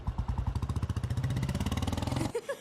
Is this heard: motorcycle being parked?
yes